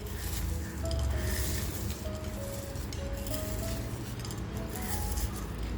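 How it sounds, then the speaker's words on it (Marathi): Crispy fried onion crushed by hand in a flat dish, giving a close, steady crackling and rustling crunch that runs without pause. "तुम्हाला आवाज ऐकायला येत असेल किती कुडकुडीत झाला आहे कांदा आपला."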